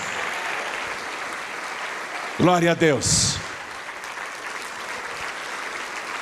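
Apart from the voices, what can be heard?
church congregation applauding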